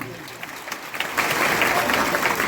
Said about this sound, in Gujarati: પણ જોરદાર તાળી જોડાવી દો.